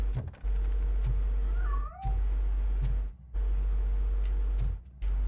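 A cat meows a couple of times amid the ambient soundscape of the RoboCop: Rogue City video game, with a steady low hum and brief dropouts around the calls.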